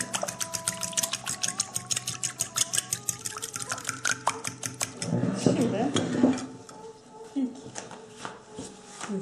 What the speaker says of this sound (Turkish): Bir adet yumurtayı, bir çay bardağı sıvı yağı ve bir çay bardağı suyu bir kaba bırakıyoruz ve çırpıyoruz.